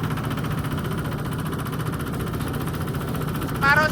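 A corn sheller machine on test runs with a steady engine drone and rattling vibration, continuous and fairly loud, with a short whine rising near the end and faint voices underneath.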